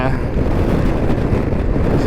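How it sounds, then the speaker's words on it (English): Strong wind buffets the microphone in a constant low rumble, loud and close, with gusty roughness throughout, recorded while riding a Yamaha Xmax 300 scooter. "It's super windy today too"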